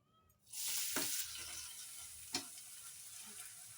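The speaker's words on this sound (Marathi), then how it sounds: "त्याच्यात तेल ओतते हा बघा परत जास्तच तेल टाकायचं आणि कांदा भाजायला घेते" Onion goes into hot oil in a kadhai and starts to fry, a sudden sizzle that settles into a steady, fairly quiet hiss with a couple of sharp pops.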